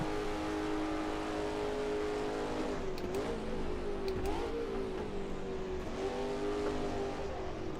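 In Assetto Corsa, a Ford V8 racing car engine drones loud and steady, then dips and rises in pitch as the revs shift through several gear changes, with faint tyre scrub in the background.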